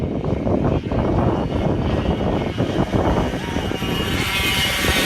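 A pack of Mini Swift class racing karts takes the green flag at a Texas ProKart Challenge race, engines buzzing loudly and continuously as they pass close by, with no voices over the noise.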